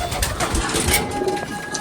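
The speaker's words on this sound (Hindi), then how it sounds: "ये माशाल्लाह सारे कबूतर हैं।" Pigeons coo softly in a loft amid rustling and shuffling, a low muffled burble under steady background noise with no speech.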